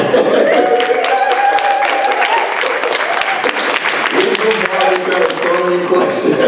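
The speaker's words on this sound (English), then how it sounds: "we're just going to give a round of applause for this guy" Loud, sustained audience applause for a presenter at a youth peace event, dense continuous clapping with voices and cheers woven through for several seconds.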